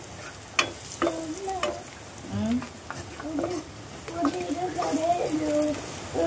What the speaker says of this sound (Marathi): आता आपण हे मसाले घालून घेऊया. हळद आणि मिरची पावडर घेतलेली ते घालून घेऊया.